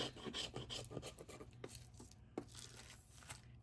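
A palette knife scrapes along the side through paint on watercolor paper, making a series of close, dry rasping strokes in an irregular rhythm, with no talking.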